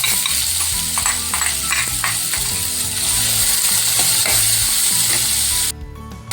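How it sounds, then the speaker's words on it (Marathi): Two large chopped onions fry in a hot pan with a dense, loud, continuous sizzle, broken by repeated clicking and scraping stirs, until the sound cuts off abruptly near the end, with no talking. "ते मी आता मस्त फ्राय करून घेणार आहे याच्यामध्ये आधी"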